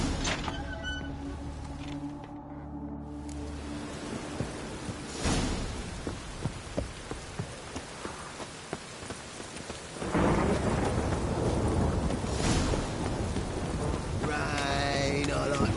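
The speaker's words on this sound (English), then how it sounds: "Rain, I like rain." Heavy rain hisses steadily while thunder rumbles and cracks, loudest near the start and again in the second half, with no voices.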